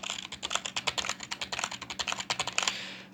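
Rapid typing on a Marvo Scorpion KM400 membrane gaming keyboard with rubber dome switches, giving a quick run of soft, tactile, non-clicky keystrokes close by, ending in a short burst of presses.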